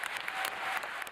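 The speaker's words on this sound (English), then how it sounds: "That's 198 nations applauding a deal where rich, polluting countries compensate poor ones for losses like floods, fires and crop failures caused by global warming." Delegates of 198 nations at a climate conference in Dubai break into dense, sustained applause, a full hall of clapping with no voices on top.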